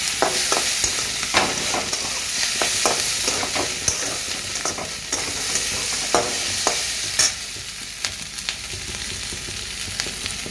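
Food sizzles and fries in a pan at home while it is stirred. Scrapes and knocks of the spatula come in an irregular rhythm over a continuous close hiss, and no one speaks.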